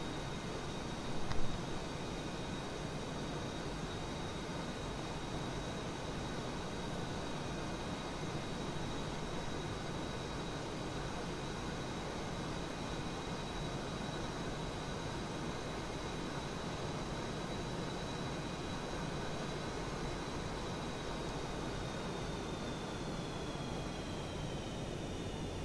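Airliner in a video game, either an Airbus or a Boeing 737, giving a steady broad jet roar with a thin high whine for the whole span, holding an even level from start to finish.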